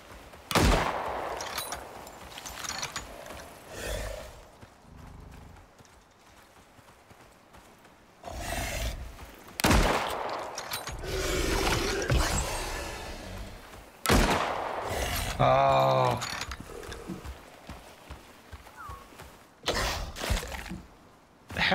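Gunfire aimed at creatures in the survival game Icarus: bursts of shots in irregular clusters, mixed with animal roars and heavy movement, with quieter gaps between the loud flurries.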